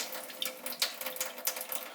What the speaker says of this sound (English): put the tap on and pour some of the water out